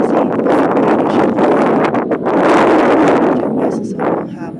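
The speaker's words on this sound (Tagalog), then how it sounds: "boses ko hindi na masyadong naririnig dyan kasi nasasapawan siya ng hangin. Sobrang lakas talaga guys." Strong wind at a lake park in Saudi Arabia buffets the microphone in loud, rough gusts that rise and ease, continuous roaring rumble with no clear speech.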